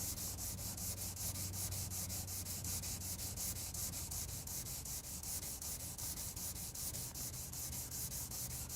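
Steady, even rubbing from a GE Scratch-B-Gone tool working scratches out of a small surface, a continuous close sanding-like scrape with a fast regular rhythm and no voices.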